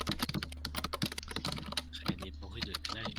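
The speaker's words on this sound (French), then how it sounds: "Ça sent le clavier mécanique à plein nez là" Rapid typing on a mechanical computer keyboard, dense clicky keystrokes in uneven bursts close by, with a low hum and soft voices underneath.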